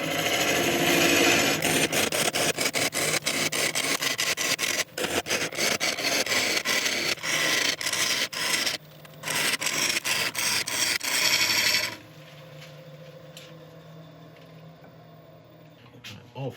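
Wood lathe gouge chattering while hollowing a turned piece, a dense, rough rattling scrape lasting about twelve seconds with a brief break, then dropping to the quieter hum of the spinning lathe.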